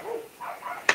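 Dogs bark in a few short, fairly faint yips, ending in one sharper bark.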